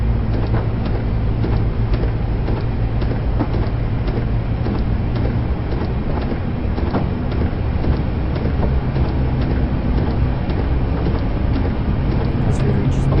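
Isle of Wight electric train running on a 750 volt DC third rail line, a steady loud rumble of wheels and motors with rhythmic rail clicks throughout, alone without talk.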